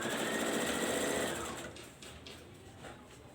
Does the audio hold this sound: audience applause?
no